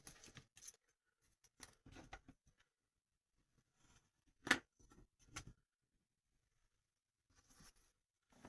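Scissors snip paper while a collage is trimmed at a table; faint, sparse cuts and rustles come in small clusters with long quiet gaps, one sharper snip standing out midway.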